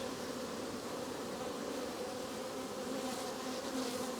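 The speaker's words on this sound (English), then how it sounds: "You see a big old ball of bees." A clustered ball of swarming honey bees hangs from a tree limb, giving off a steady, dense buzzing hum that holds at an even level throughout without any talk.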